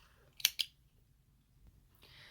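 Scissors snip through crochet yarn, two quick crisp cuts close together, followed by a soft rustle of the yarn, close and quiet.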